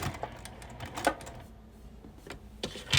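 A sewing machine back stitches through a quilted bag in short, uneven bursts of rapid clicking and whirring, close by, with brief pauses between runs.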